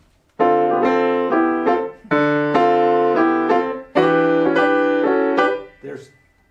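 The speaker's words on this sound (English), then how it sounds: "you played solo piano and then you were doing rootless voicings" Solo jazz piano plays rootless voicings in a few loud, close sustained chords, each struck and held for about a second or more before the next change, ending with a soft trailing note.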